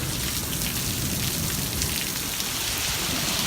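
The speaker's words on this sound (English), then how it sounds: "What are you doing in a thunderstorm, lady?" Heavy rain pelts the ground and surfaces during a thunderstorm with hail, a dense, steady hiss filling the whole stretch at close range, with no voices and no thunder clearly heard.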